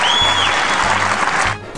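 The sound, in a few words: crowd cheering and applauding at John McCain speech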